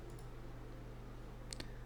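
Computer mouse clicks in a settings menu, a quick pair of sharp clicks near the end after a faint double click at the start, small and close over a low steady hum.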